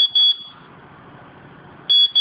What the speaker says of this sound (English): Oh, there's the buzzer.